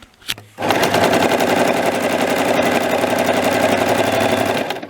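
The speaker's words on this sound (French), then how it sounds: "Donc comme tu peux le voir, ça coud." A Toyota Jeans sewing machine stitches in a fast, steady mechanical rattle. It starts after a brief click, runs loud and close for about four seconds, and then slows slightly.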